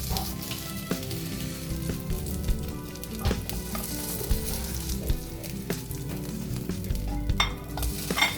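Hamburg steak fries in a pan, a close, steady sizzle broken by frequent scrapes and clicks of a utensil being moved around, with no voices.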